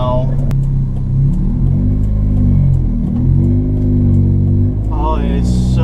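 A car engine with a Megasquirt-managed 420a engine idles around 1,000 rpm with a steady low rumble, rising and dipping slightly in pitch, heard close up over the whole stretch.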